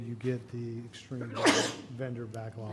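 A single sharp sneeze bursts out in a council meeting room partway through, cutting across someone speaking steadily at a microphone.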